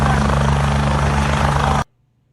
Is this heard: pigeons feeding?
no